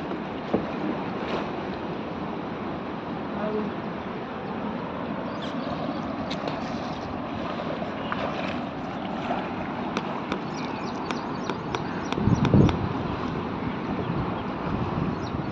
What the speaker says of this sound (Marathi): खास आपल्यासाठी सोमा होडी चालवा लागले.